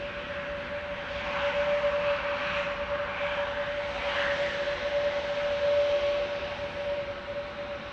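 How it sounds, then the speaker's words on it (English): An ITA Airways Dreamliner at Amsterdam Schiphol sends out a moderate, steady jet roar with a sustained tonal whine that swells and fades slightly over several seconds. "ITA Dreamliner coming this way."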